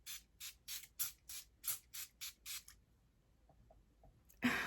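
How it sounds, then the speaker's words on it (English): A quick series of about nine short hissing bursts of Evian water misted from a can, sprayed in a steady rhythm up close, then a pause before a louder rustle at the end. "I'm going to spray a little bit of this Evian water"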